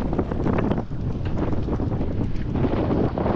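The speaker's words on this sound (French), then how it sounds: "Vent de face tout du long." A headwind buffets a sailboat at sea, making a loud, continuous low rumbling roar of wind against the microphone with gusty swells and no voices.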